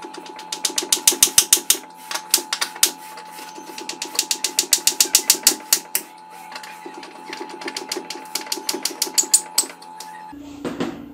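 Screws being tightened on electrical terminals for a household circuit, a dense run of quick metallic clicks and ratcheting ticks in bursts, fairly close and steady, with a brief louder rustle near the end.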